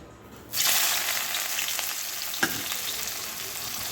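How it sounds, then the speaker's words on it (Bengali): Oil in a kadai, heating for frying fish, breaks into a sudden loud hiss and then keeps a steady close crackling sizzle, with one sharp pop partway through and no voices. "এখানে এই যে কড়াই তেল দিয়ে নিয়েছি লোটে মাছটা বসাবার জন্য"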